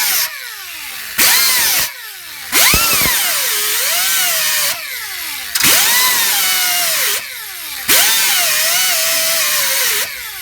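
An angle grinder works a metal clutch pedal stop in four loud bursts, each spinning up, biting into the metal with wavering pitch, then winding down between passes. No one speaks.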